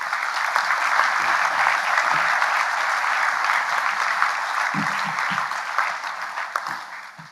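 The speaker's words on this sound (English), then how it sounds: "Could we please provide a round of applause to these gentlemen?" Steady audience applause fills a school awards evening hall for a group of students, dense and even before tapering slightly at the end.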